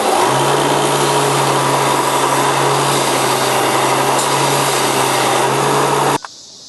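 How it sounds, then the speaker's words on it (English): A belt sander shaping a wooden toy's trunk, a loud steady motor whine with a constant low hum, running continuously up close before cutting off abruptly near the end. "Shape that trunk to any shape you want on the belt sander."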